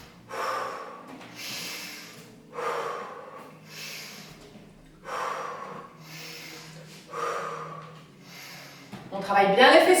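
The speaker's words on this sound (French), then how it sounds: "Respiration plus courte." Short, forceful breaths during a standing warm-up exercise, about five sharp exhale bursts in a steady rhythm, close and loud, with a rustle at the end.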